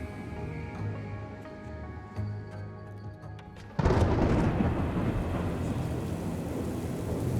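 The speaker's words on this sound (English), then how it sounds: "intense rains, thunderstorms, and lightning prevailed over Wenzhou city." An intense evening thunderstorm rolls over Wenzhou city, China, with low rumbles and distant crackles, then a sudden loud thunderclap breaks into a steady, heavy roar of rain.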